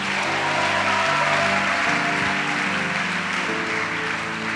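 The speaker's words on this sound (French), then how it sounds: "Acclamons la parole." A church congregation bursts into sustained, steady applause and acclamation after a Bible reading, a dense wash of clapping over music that holds unbroken throughout.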